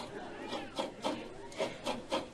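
A shell turned and shredded by hand, producing soft rhythmic rasping scrapes, about six short strokes in quick succession, close and fairly quiet.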